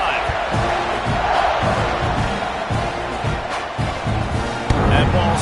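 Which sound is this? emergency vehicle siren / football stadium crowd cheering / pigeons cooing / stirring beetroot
football stadium crowd cheering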